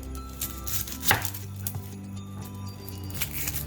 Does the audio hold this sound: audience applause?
no